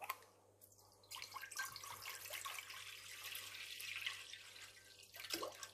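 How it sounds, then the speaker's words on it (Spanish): Water being poured into a small cooking pot on a stovetop, a steady running splash that swells and falls over several seconds, close and moderately loud, with no talking. "vamos a poner como un litro de agua"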